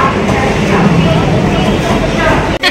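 A train pulling into Madhyamgram station, heard as a steady, loud rolling rumble close by, with a brief dropout near the end.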